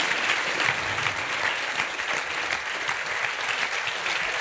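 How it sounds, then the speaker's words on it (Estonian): Warm applause from an audience for speaker Paavo Siimann after his investment strategy talk, a short, steady burst of many hands clapping close by, heard alone with no speech over it. "Suur tänu ja aplaus Paavale."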